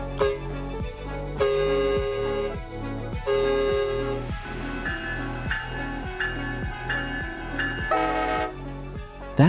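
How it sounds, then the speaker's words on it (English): Discordant K5CA horn on a batch of Alstom passenger cars built for Canadian rail service, sounding in repeated long loud blasts over the steady rhythmic clatter of rolling train wheels. "the K5CA is designed to be discordant on purpose"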